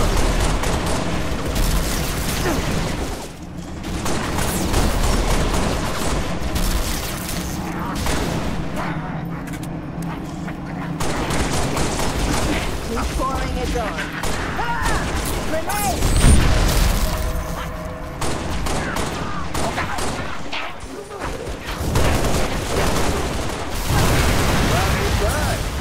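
Dense, continuous gunfire and booming explosions from a Halo: Reach battle rumble loud and close throughout, with shouted voices and radio chatter mixed into the din.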